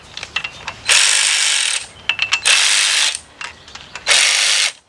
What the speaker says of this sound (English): battery operated ratchet.